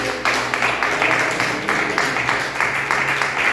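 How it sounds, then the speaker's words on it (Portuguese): A church congregation claps in a steady, repeated rhythm, the applause loud and close as people fill the room with sustained clapping. "Salve de palmas para Jesus"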